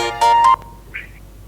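A telephone rings for an incoming caller to a live Islamic talk show, two bright electronic ring bursts in quick succession followed by a short fainter tone, clear and close.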